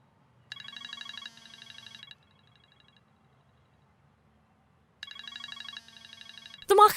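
A telephone rings indoors in two bursts of trilling electronic tones separated by a few seconds of quiet, fairly close and clear, followed by a brief rustle or voice at the end.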